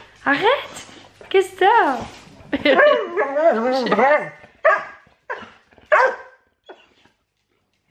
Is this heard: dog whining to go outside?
yes